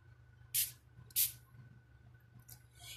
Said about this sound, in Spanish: Estoy aplicando el spray bastante retirado.